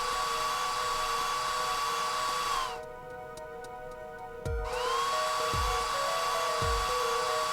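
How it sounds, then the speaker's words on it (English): A hair dryer blows with a steady whine that cuts out for about two seconds and then starts up again, with a few dull knocks near the restart. "It's not even a real hairdryer sound."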